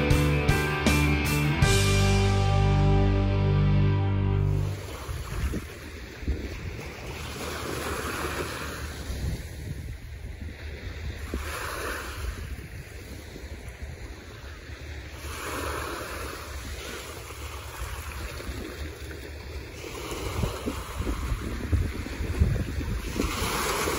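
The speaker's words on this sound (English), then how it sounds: "Tide is definitely coming in." Waves of an incoming high tide wash onto an Alaska beach, a soft, continuous surf rush with repeated swells and wind noise on the microphone, preceded by a brief louder tonal sound at the start.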